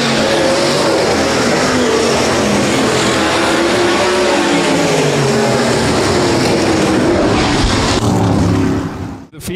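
Race cars roar around the dirt oval at Rapid Speedway, a loud, dense wall of engine noise from several cars with revs rising and falling close by before it cuts off abruptly at the end.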